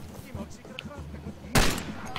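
A single loud burst of gunfire from the video game Far Cry 2 cracks out near the end, following a stretch of quieter game ambience and faint sounds.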